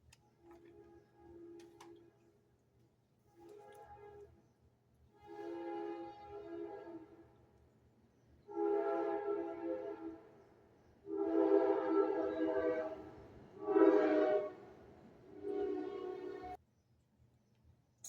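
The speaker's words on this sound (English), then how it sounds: "I hear another train coming." A train sounds its horn several times in the distance, a series of long tonal blasts growing louder with short gaps between them, over a faint low rumble and no talk.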